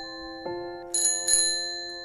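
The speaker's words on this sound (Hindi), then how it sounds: "एक घंटी की आवाज सुनने के लिए हम बेताब रहते थे।" A rickshaw's bicycle bell rings clearly in two quick bright dings, preceded by a soft knock, close and alone against a quiet background.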